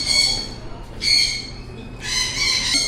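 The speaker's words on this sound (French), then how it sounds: "J'ai un perroquet sur moi, je sais pas pourquoi." A parrot perched on a person at an animal spot in Busan gives several shrill, squawking calls in bursts, close by and fairly loud, over a soft background hum.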